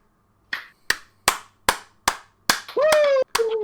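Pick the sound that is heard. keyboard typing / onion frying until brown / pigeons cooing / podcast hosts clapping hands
podcast hosts clapping hands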